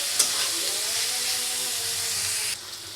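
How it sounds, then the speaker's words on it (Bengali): Chillies and onions fry steadily in a pan, a loud, continuous sizzle and hiss that holds close and even for three seconds before easing slightly at the end. "মরিচ পেঁয়াজগুলো খুব সুন্দর করে ভাজা হচ্ছে।"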